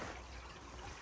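Water in a babbling brook in the Cotswolds trickles and burbles softly and continuously, heard faintly outdoors with a brief small splash near the end.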